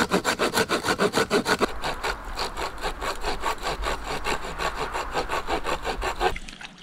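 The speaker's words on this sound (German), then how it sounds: "und säge schon mal das Holz zusammen" Firewood for a campfire is hand-sawn at a campsite in Sweden, with rhythmic back-and-forth strokes, fast and pronounced at first, then a steadier grinding rasp until the cutting stops.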